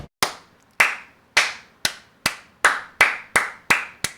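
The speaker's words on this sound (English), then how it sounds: "Please clap too, so it doesn't sound like I'm clapping by myself" A single person claps alone, nine sharp, evenly spaced hand claps at a steady, unhurried pace, close and fairly loud with silence between each one.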